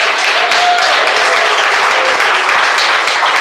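A church congregation applauds at a lively worship service, with dense, loud, continuous clapping that fills the whole moment without a break.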